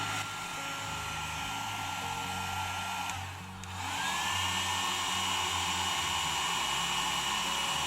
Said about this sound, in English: All right, so Allie, go ahead and heat that. Start with the low heat.